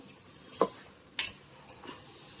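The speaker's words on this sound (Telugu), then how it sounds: "మసాలా అంతా రైస్కి పట్టాలి, కింద నుంచి పైకి బాగా కలపాలి" Spoon stirring masala through rice in a pot for prawn biryani, heard as a few faint, scraping strokes spaced apart in a quiet kitchen.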